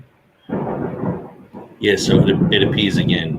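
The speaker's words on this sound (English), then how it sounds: "You can hear the lightning cracking in the background there." A thunderstorm cracks and rumbles in the background under a voice, which talks over much of the stretch, with a louder, sharper burst of thunder arriving partway through and lingering to the end.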